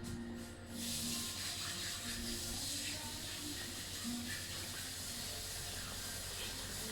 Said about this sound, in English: I am now going to quickly wash my hands